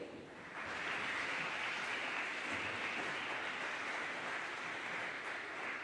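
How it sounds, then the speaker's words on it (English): Sustained round of applause from a graduation audience for the HomeLink Class of 2024 at Deer Park, a dense crowd clapping that swells within the first second and holds steady to the end, with no speech over it. "please give a round of applause for those here who are here to support you"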